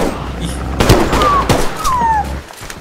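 A few sharp, sudden gunshot bangs in the video game BigFoot, spaced over a couple of seconds, with faint whistling tones and background noise between them.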